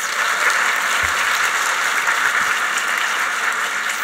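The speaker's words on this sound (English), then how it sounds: "Can we give them another round of applause?" A crowd at a nursing college graduation ceremony gives the graduates a round of applause, a broad steady wash of clapping from a large hall that continues without a break.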